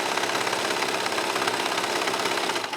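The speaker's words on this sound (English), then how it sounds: "It's a 4-thread serger." A 4-thread serger stitches and trims fabric for a hooded towel with a loud, fast, continuous mechanical whir and rapid rhythmic chatter, heard close up.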